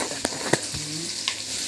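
Cumin seeds hit a hot pan for a coconut and onion chutney and give a steady close sizzle of frying, broken by a few sharp clinks of stirring, with no talk.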